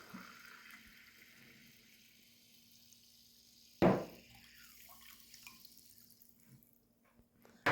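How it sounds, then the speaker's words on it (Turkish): Vegetable oil and plain soda water poured into a bowl for a sauce brushed onto cheese börek pastry sheets: a quiet pour with one sudden splashing burst midway, followed by faint fizzing and trickling, no voices. "1 çay bardağı sıvı yağ ve 1 çay bardağı sade soda ekliyorum."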